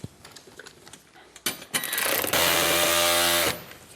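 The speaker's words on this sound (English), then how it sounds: "it sounds like it's cross-threaded, doesn't it?" Cross-threaded bolt driven into a car bumper, giving a loud grinding mechanical buzz with a rising ratcheting tone that cuts off abruptly after a few scattered clicks, close with no talk.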